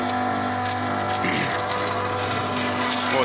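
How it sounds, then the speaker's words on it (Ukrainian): A Bitzer refrigeration compressor running steadily after start-up, giving off a loud continuous mechanical drone with a low hum and faint rattling and clattering on top. "запустився компресор, дивимося, що робиться в окна"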